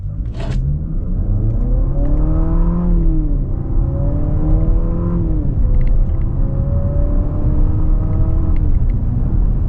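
A 2026 Infiniti QX60 Sport AWD accelerating in sport mode with manual paddle shifts. The engine drones loudly and continuously from the cabin, its pitch climbing and then dropping at each gear change several times. One sharp click comes near the start.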